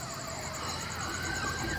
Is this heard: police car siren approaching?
yes